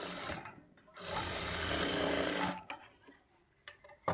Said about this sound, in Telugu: ఇప్పుడు ఇదే స్టిచ్ మీద ఇంకొక స్టిచ్ వేసుకోవాలి